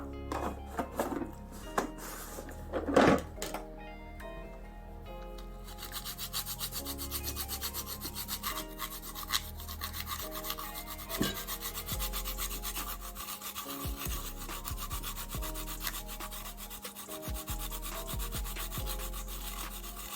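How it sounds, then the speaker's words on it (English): Nutmeg is rubbed against a grater in a home kitchen while making sea moss gel, giving a steady, close, rasping scrape that continues for many seconds after a few handling knocks at the start, with no talking. "I'm just gonna grate a small piece of nutmeg."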